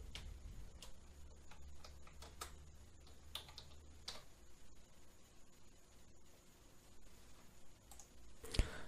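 Fingers tap out an address on a computer keyboard, a sparse run of quiet, irregular key clicks with short pauses, ending in a sharper click.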